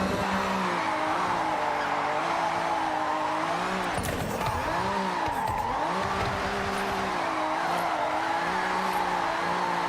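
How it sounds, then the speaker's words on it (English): A car drifts in Forza Horizon, its engine droning and wavering in pitch while the tires squeal steadily throughout, loud and close, with a sharp burst of skidding noise midway. "It's actually drifting pretty good."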